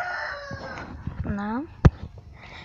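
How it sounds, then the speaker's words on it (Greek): A rooster crows in a garden in Bulgaria, its call rising and falling once in the middle of the clip, close and clear, with other chickens clucking faintly around it and someone briefly speaking. "και εκεί έχει κότες"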